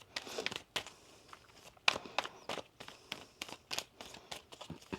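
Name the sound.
shuffling tarot cards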